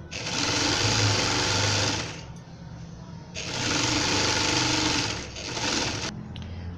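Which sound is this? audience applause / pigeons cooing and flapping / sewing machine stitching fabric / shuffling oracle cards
sewing machine stitching fabric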